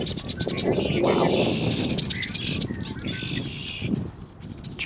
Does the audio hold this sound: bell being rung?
no